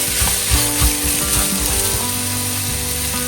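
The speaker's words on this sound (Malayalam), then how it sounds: "സവാള നന്നായിട്ട് വഴന്നു വരണം." Onions sautéing in oil for a bitter gourd curry give off a loud, continuous sizzle close up, with faint tonal music running underneath.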